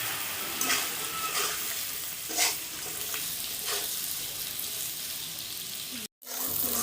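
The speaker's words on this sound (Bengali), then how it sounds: "খুব ভালোভাবে পেঁয়াজটা ভেজে নেব" Onions sizzle steadily in a hot pan for a biryani and chicken kosha meal, with occasional scraping stirs of a spatula and a brief cut to silence near the end.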